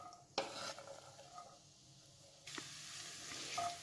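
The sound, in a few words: chopped onion frying in oil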